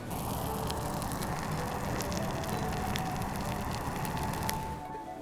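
Rice with edamame and fresh ginger cooks in a covered pot, giving a continuous soft, moist crackling and bubbling with scattered sharper pops, fairly quiet and steady throughout.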